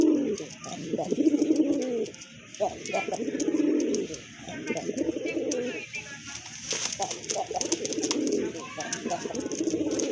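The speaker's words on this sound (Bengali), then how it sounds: "মাদ্রাজি গোল্লা কবুতর আর এটা কিন্তু আকাশি কালার" Madrasi Golla pigeons in a sky-blue color coo repeatedly up close, with soft rolling calls in a steady rhythm, plus faint wing rustles and someone talking over them partway through.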